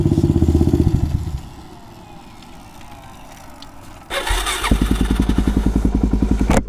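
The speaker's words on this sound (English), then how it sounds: "waiting for my buddy Tom to show up on his KTM 450" KTM 450 supermoto motorcycle engine idling nearby with a steady pulsing thump, fading to a quieter lull, then revving up loudly again with a rapid, choppy single-cylinder rhythm.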